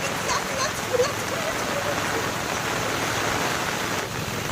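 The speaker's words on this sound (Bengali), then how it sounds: "বলতে না বলতে বৃষ্টি" Steady light rain begins falling over a garden with guava trees, a soft even hiss of drops that holds for several seconds at moderate level.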